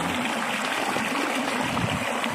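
A small stream of water fed by a larger river runs near a village, a close, steady rushing and trickling flow that fills the whole stretch without pause.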